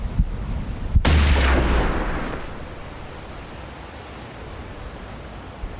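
A rifle fires once at a moose in the Hunting Simulator video game, a sharp, loud shot followed by a long rolling echo that fades over several seconds, with no talking.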